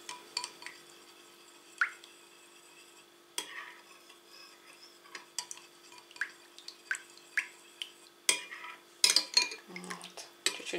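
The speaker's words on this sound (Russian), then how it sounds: "И перемешиваем ее. Хорошенечко надо перемешать." A spoon stirring a heaped spoonful of yogurt into milk for homemade matsoni, with scattered clinks and scrapes against the container that grow busier and louder toward the end, close to the listener.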